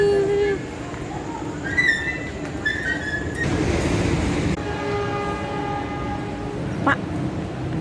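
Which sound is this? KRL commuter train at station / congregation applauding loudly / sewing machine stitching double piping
KRL commuter train at station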